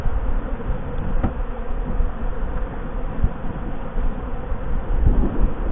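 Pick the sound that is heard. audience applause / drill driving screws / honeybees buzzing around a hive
honeybees buzzing around a hive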